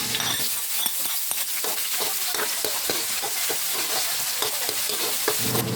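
Garlic, ginger and onion sautéing in plenty of oil in a pan, a loud continuous sizzle with dense crackling pops and regular stirring scrapes throughout, close and with no talking.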